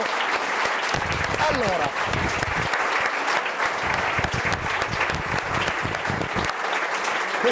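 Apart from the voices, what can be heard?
audience applause after choir song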